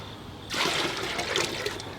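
A sudden rush of sloshing, pouring water as it is scooped from a guppy pond bursts in after a quiet start and keeps splashing and trickling until the end.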